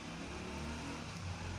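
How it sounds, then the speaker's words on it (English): Vehicles pass outside, producing a faint, steady rumble of distant road traffic that continues without a break. "the background noise of the vehicles out there"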